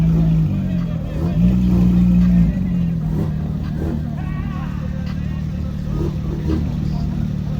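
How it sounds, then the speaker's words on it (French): A Porsche GT3 RS supercar pulls out behind another GT3 on a New York street, a low engine rumble rising briefly in a revving swell, then settling under crowd chatter and passing traffic. "À la sortie de la GT3 RS derrière la GT3"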